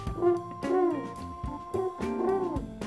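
During shadow-puppet play at home, a voice imitates a bird with a series of hooting, owl-like calls, rising and falling in short repeated bursts.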